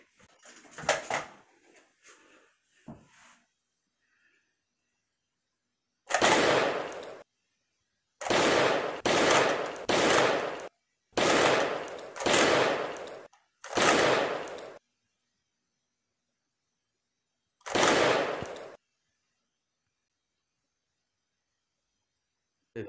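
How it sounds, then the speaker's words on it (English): Bursts of video game gunfire in several separated volleys, loud and close, following a few brief scattered noises at the start, with no talk over the shots. "I'll shoot you so many times, I swear to God."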